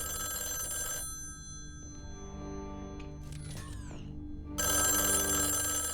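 A telephone ringing in a scene from the Loki TV series, season 2 episode 4: a bright, sustained ringing tone at the start and again at the end, with music and brief whooshing effects between.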